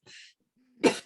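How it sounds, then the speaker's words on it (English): A person nearby gives a soft throat sound, then after a short pause lets out one sharp, loud cough, with no talking around it. "that was a cough"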